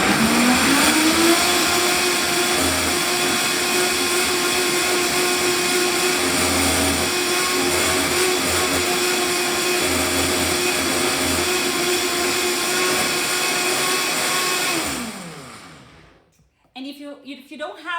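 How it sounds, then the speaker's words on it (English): A powerful blender grinds corn kernels, a loud steady whir running for about fifteen seconds before winding down and stopping, with a voice briefly heard after it ends. "you might want to blend for longer because you really want the corn to release all its starch inside"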